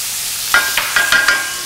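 Firm hard tofu sizzles in a frying pan, a few quick bursts of crackling spatter over a low background hiss, close and brief.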